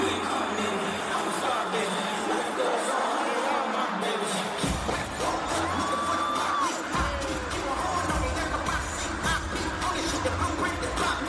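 Concert crowd at a stadium show, a dense, steady roar of cheering and shouting voices with occasional whoops and bangs, loud and sustained throughout.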